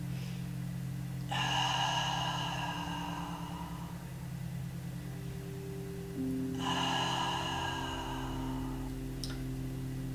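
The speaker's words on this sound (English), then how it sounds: "Three more deep, slow breaths." Two slow, deep yoga breaths taken close to the mic, each a long soft airy whoosh heard over a steady low background hum, with a quiet gap between them.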